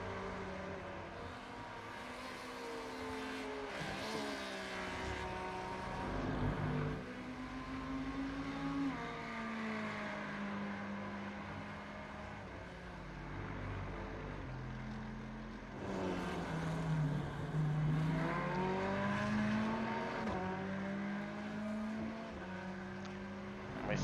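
A Porsche GT3 race car on the Circuit of the Americas in iRacing, its engine note climbing and dropping through the gears, moderately loud and steady, with no talk over it.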